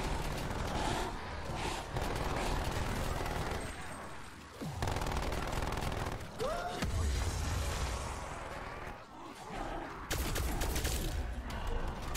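Automated turrets blaze away in Call of Duty: Black Ops Cold War during a round-50 zombies exfil, a dense, unbroken wall of rapid gunfire with mechanical clatter and occasional blasts, briefly thinning before surging again.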